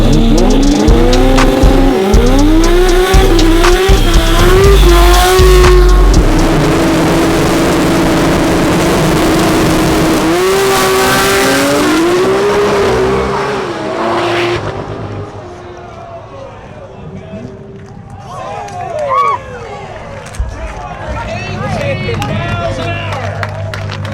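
A 2000 HP 2JZ-engined Supra race car with a five-speed gearbox roars loudly through rising and falling revs, with tire noise and crowd babble around it before the engine fades to distant rumbling.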